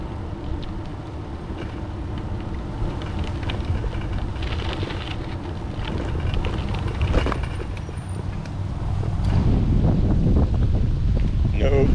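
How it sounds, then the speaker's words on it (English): Strong headwind buffets the microphone at the landing end of the Summerland Key Airport runway in the Lower Florida Keys: a continuous loud, rough roar that swells louder in the last few seconds. "headwind. Big headwind."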